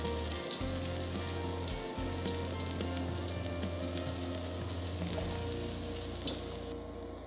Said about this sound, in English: Fry the shallots till they are fragrant.